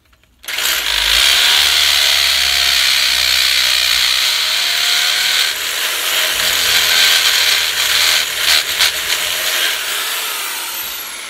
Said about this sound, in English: So first we have to drill out a 5/8 inch hole.